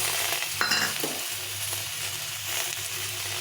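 Ground spice paste of green chilli hits a hot pan for a singi-magur fish curry, crackling in a loud, constant sizzle with a brief stirring clatter near the start. No voices are heard.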